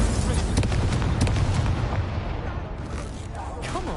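Incendio fire spell cast in Hogwarts Legacy, a loud burst of roaring flame and booming impacts that slowly fades, with game voices over it.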